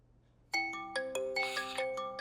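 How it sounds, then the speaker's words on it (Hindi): A mobile phone ringtone starts suddenly after a brief hush and plays a bright, chiming melody of repeated bell-like notes at close range, with no voices. "लो, फिर बज गया तुम्हारा फोन।"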